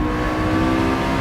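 A McLaren 650S Spider on a racetrack holds a high, sustained engine whine at speed, loud and steady under wind noise, heard alone without voices.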